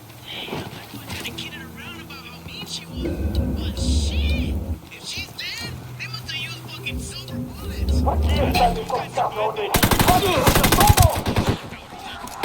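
Gunfire in Ghost Recon Wildlands on Extreme mode: a dense, rapid burst of shots erupts near the end, loud over game music and voices talking throughout.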